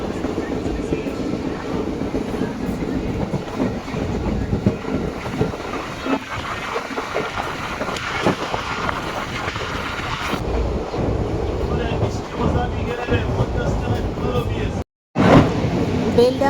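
Heard from on board, the 13118 Lalgola–Kolkata Dhonodhanne Express runs between Beldanga and Palashi past rice fields, with a loud, steady rumble and rattle of wheels and carriages, wind noise, and a brief cut near the end.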